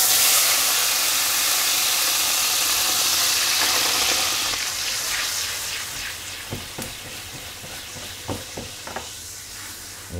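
A hot pan deglazed with liquid while cooking beef with morel mushrooms, a loud hissing rush of steam that gradually fades into a softer sizzle with a few scattered pops and utensil taps, close and without voices.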